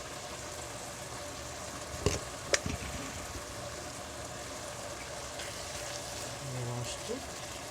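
Spinach, salted fish and crushed tomatoes fry quietly in a pan, a soft steady sizzle broken by a few sharp clinks and scrapes of stirring.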